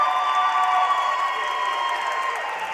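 An audience at the American Liver Foundation Gala cheers and applauds steadily throughout, a dense, loud wash of clapping and shouts in a large hall.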